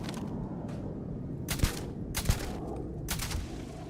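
Several sharp gunshots from an enemy fight in Starfield ring out in irregular bursts, with quieter hits between them, loud and close over a low steady background.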